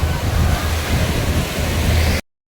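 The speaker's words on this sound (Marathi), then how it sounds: "वा, माझ्या पायाजवळ येते लाट." Sea waves wash up a Goa beach shore toward the feet: a steady, close, broad rush of surf fills about two seconds, then stops abruptly.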